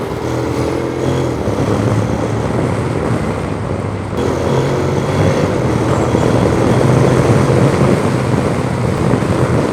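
A Honda X-ADV 750 fitted with an Akrapovic exhaust runs with a loud, steady, deep engine drone heard close and continuously, with no talk.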